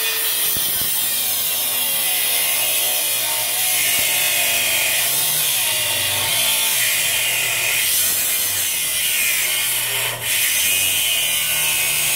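A grinder with its guard still fitted runs in a home garage, giving a loud, continuous abrasive whine and rasp that holds steady for the whole stretch, close up and without speech.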